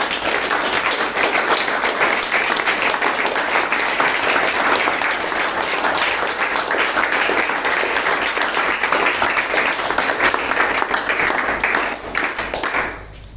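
A church congregation applauds continuously for about thirteen seconds, a dense, loud wash of many hands clapping that fades slightly at the end.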